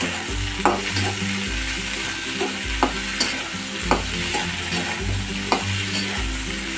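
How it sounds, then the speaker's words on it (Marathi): Chopped green chillies roast in hot oil for a village-style thecha, with a steady sizzle and regular spatula scrapes and stirs sounding close, about every second, with no voices. "आता आपल्याला चिरून घेतलेल्या सर्व मिरच्या तेलामध्ये टाकून घ्यायच्या व्यवस्थित अशा भाजून घ्यायच्या आहेत"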